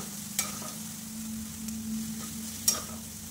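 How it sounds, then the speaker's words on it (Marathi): Moong dal sizzles softly in a pan as it is sautéed, with a low steady frying hiss broken by a couple of sharp scraping stirs of a spoon. "मुगाची डाळ चांगली परतून घेतली आपण."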